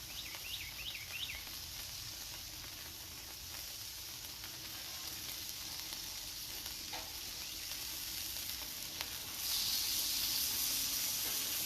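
Smashburger patties sizzle on a hot griddle with a steady, dense hiss and crackle that swells louder toward the end, close and alone, with no talk.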